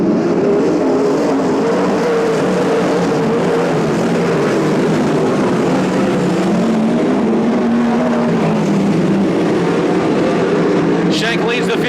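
Spec sprint cars racing at Petaluma Speedway, a dense continuous roar of engines that rises and falls as the field passes, with a commentator talking over it throughout.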